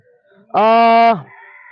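A rooster at a poultry farm crows once, loud and close, in a single sustained, strongly harmonic call lasting about half a second, followed by faint background clucking from other chickens.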